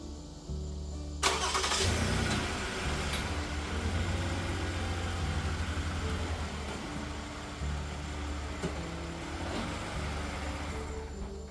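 A car engine cranks briefly and catches after an oil change, settling into a steady, close idle that runs throughout with no talk.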